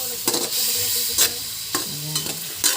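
Vegetables sizzle and fry in a pan for a Filipino pancit, with several quick stirring scrapes breaking through the steady crackle, close and fairly loud.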